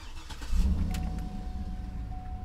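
A Cadillac car engine runs close by, a low rumbling idle with a brief swell like a light rev early on, then a steady throb with a faint high tone, no talking.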